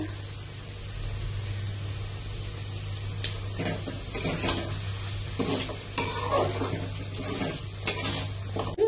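Mutton pieces frying in hot oil for a curry, a steady sizzle under repeated scraping stirs of a spatula against the pan, close and moderately loud with an irregular rhythm.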